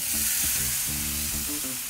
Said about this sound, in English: hear that sizzle? That's what we're looking for.